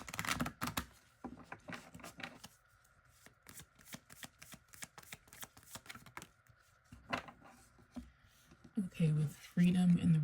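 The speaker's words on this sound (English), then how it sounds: "before I shuffle" A deck of cards is shuffled during a pick-a-card reading: repeated riffling bursts that come and go across the clip, close and fairly loud, with a voice talking between and over them.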